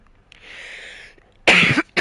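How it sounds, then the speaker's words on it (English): A single person coughs twice in quick succession, loud and close, after a softer breathy sound, with no other talk. "I don't usually cough."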